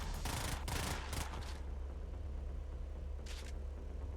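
Heavy weapon fire from a shotgun-armed vehicle in the Brigador video game, with a dense burst of loud blasts early on, then a steady low engine rumble and one more short blast near the end.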